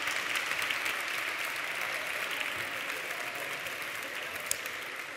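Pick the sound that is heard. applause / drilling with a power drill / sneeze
applause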